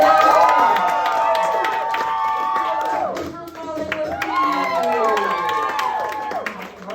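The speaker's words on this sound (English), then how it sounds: "Let's give it a round of applause." An audience at a stand-up comedy fundraiser cheers and whoops with some clapping mixed in, the voices loud and lively throughout.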